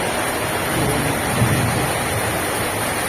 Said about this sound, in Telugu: ఇక్కడ కింద అయితే వర్షం పడుతుంది.